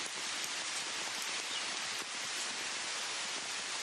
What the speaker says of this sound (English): when the rain's coming down this hard, Grant, the ball doesn't want to fly quite a